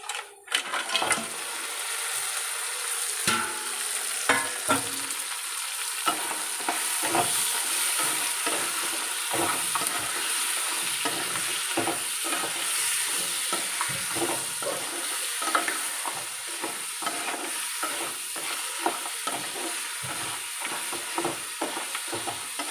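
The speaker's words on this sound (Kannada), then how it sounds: "ನಾನಿವಾಗ ಕ್ಲೀನ್ ಮಾಡಿ ಇಟ್ಕೊಂಡಿರೋಂಥ ಏಡಿಯನ್ನು ಹಾಕ್ಕೊಳ್ತೇನೆ." Cleaned crab hits a pan of fried tomato and onion for a coastal-style crab sukka, giving a loud continuous sizzle with frequent scraping stirs and utensil knocks, close up and without speech.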